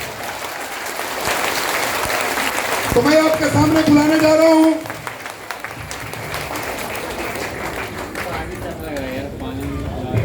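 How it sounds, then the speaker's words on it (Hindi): Audience at an RCM business meeting in Jamshedpur claps in broad, steady applause, with a presenter's voice talking over it through a PA. "जोरदार तालियों से।"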